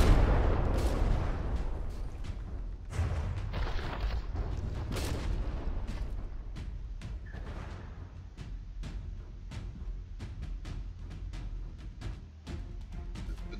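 Naval cannon fire in a video game battle between two warships: repeated sharp booms and blasts at irregular intervals over a low rumbling background, loud at first and then continuing more sparsely.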